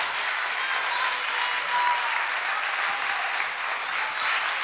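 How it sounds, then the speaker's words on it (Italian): Continuous, full clapping from the crowd at an Italian talk event with a live ranking fills the moment: loud, even and unbroken throughout, with no voices on top. "un applauso"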